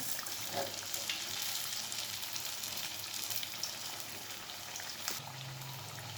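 Battered tempeh fries in a small pan with a steady, close sizzle and crackle, with a few brief sharper pops along the way.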